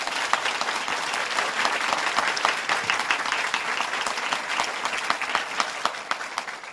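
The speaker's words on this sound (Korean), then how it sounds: "우리 한번 축복의 박수로 환영하도록 하겠습니다" A church congregation at an early-morning prayer service claps steadily to welcome the senior pastor, a dense, even applause that runs throughout with no talk over it.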